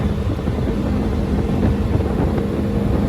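A 500 hp Hemi-powered off-road Jeep roars steadily at speed, its exhaust note a loud, rough drone with wind and road rumble mixed in.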